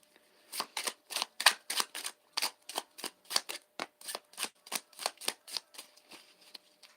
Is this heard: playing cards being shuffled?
yes